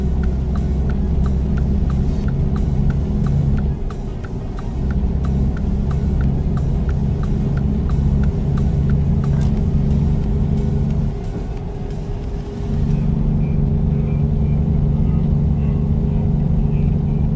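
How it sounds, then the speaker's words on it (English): Heavy rain drums steadily over the low, constant engine rumble of a truck driving in American Truck Simulator, with a brief dip in the engine drone twice and a fast rhythmic ticking, likely wipers, in the first half. "It's raining really hard."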